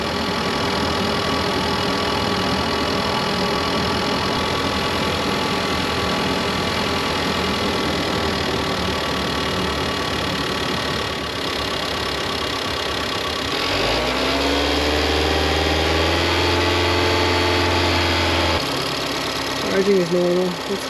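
Car engine idling during a battery charging test, a steady close mechanical hum throughout, joined midway by a rising electronic tone and a brief revving swell, with a voice speaking in places.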